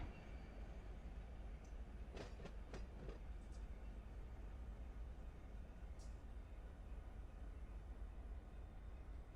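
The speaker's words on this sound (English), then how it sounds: "we'll catch some views of the trains we just AI'd leaving" Trains leaving in the Run8 train simulator, a low continuous rumble of rolling railcars with a short cluster of clicking wheel and rail clacks, faint and steady throughout.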